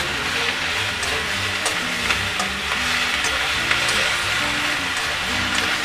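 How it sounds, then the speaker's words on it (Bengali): Ginger garlic paste frying in a pan, a steady dense sizzle holding at an even level throughout, close up, with low background hum and no clear speech. "মোটামুটি একটুখানি ভেজে নিই আদা রসুনের পেস্ট দিয়ে"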